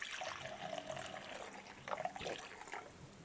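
Liquid pours and splashes steadily into a vessel during a morning toast ritual, a soft close trickle with rain-like patter that swells in brief bursts, with no talk.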